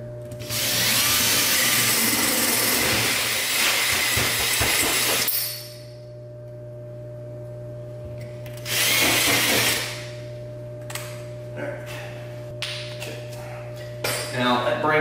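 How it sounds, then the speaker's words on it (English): A power drill bores a hole into a house wall while a Tesla Wall Connector charger is mounted, with two loud bursts of drilling separated by a pause, followed by lighter clicks and handling noises against a steady hum. "So, drill that right there."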